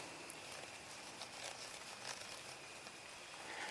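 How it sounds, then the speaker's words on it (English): Rain falls outdoors on a dark evening, a faint, even hiss of drops with light crackling patter throughout and no one talking. "rain has picked up all of a sudden"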